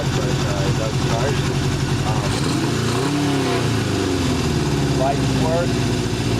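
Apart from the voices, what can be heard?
1978 Honda CB 750 motorcycle engine running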